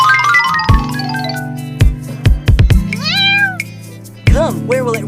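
A cartoon kitten stuck on a cupboard lets out loud, repeated meows, some rising and bending in pitch, over a sustained musical backdrop with occasional tinkling accents.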